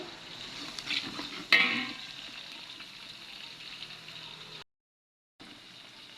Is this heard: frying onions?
yes